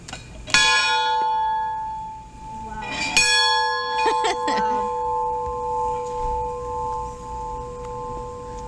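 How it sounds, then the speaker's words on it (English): A bell at the oldest wooden schoolhouse in St. Augustine, Florida rings out in several loud clanging strikes, each leaving a long sustained metallic hum that fades slowly, heard up close. "we're gonna ring the bell"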